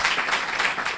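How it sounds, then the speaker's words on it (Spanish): Strong, steady applause fills a hall at a club taurino tribute event in Alcora, dense clapping from a large crowd sustained throughout with no pause. "De aquí pido un fuerte aplauso a Javier."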